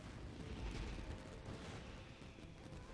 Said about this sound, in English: Yae Miko, this is turning into a bit of a fireworks display.